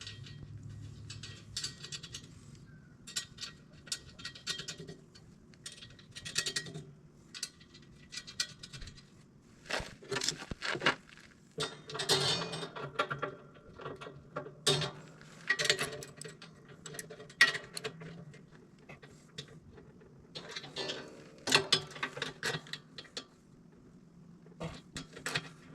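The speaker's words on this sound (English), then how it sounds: "Let's get the nuts on and tighten it up." Nuts being tightened onto upgraded Moose Utility snowplow push tubes, with a series of metallic ratcheting clicks and clanks in irregular bursts, fairly close and moderately quiet, with no talking.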